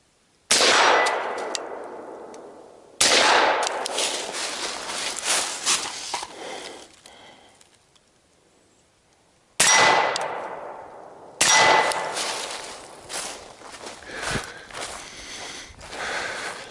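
Suppressed short-barreled 11.5-inch AR15 rifle shots fired outdoors at a target below, four loud close reports with clanging metallic rings and long decaying tails, spaced several seconds apart.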